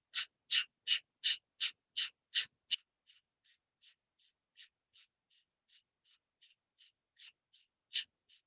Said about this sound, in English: Kapalbhati breathing.